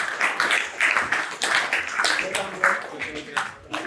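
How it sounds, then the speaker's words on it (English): Audience applause at a graduation ceremony for 8 to 12 year olds, a steady patter of many hands clapping at close range, with voices mixed in underneath. "Give them another round of applause."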